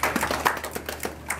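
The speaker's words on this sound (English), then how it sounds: "Round of applause for it." A small group of ultimate frisbee teammates clapping for the Spirit Award winner, close, uneven individual claps in a loose rhythm.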